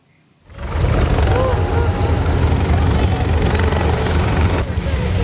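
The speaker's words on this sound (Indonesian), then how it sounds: "Helikopter yang ditumpangi Presiden Prabowo mendarat di Stadion Merdeka Kota Jombang, Jawa Timur pada Kamis sore." Presidential helicopter of Indonesia's President Prabowo landing at Merdeka Stadium in Jombang, East Java, its loud, close rotor roar starting abruptly and holding steady throughout.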